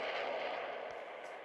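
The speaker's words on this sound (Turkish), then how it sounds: "Patlama" A video game explosion from a world-destroying game, a sustained broadband roar that stays loud and steady for over a second, then tapers slightly with a faint low thump partway through.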